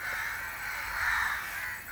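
A dense chorus of crows caws continuously around a dead crow, loud and steady with many birds overlapping and no pauses.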